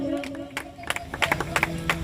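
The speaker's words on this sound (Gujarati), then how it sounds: "હું કહું છું તાળી પાડજો" An audience at a Brahmadev temple claps along in rhythm to a devotional banjo performance, with sharp, evenly spaced claps over sustained melodic tones and a murmuring crowd.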